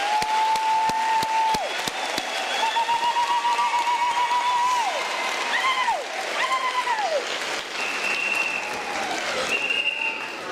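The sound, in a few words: round of applause for the doctors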